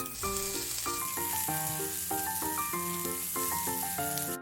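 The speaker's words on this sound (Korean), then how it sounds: "기름 2스푼 두르고 양파부터 볶아줄게요" Onions and paprika frying in two spoons of oil in a pan for japchae, a bright hiss of sizzling running throughout beneath loud, steady background music.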